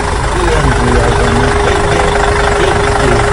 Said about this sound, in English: E for engine, engine, E for engine, E for engine